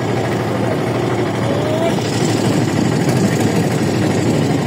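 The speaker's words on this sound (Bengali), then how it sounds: "এই মুহূর্তে আমাদের ট্রলার ছেড়ে দেওয়া হলো। আমরা এগোচ্ছি" Trawler boat engine on the wide waters of Uchitpur haor in Netrokona, a steady close low rumbling drone as the boat pulls away, with water and wind noise around it.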